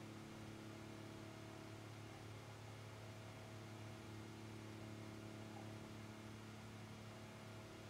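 A glitched car engine in the Enthusia racing game, stuck droning at a steady pitch near 3000 RPM, with no rise or fall in revs, a constant mechanical hum heard alone without any talk.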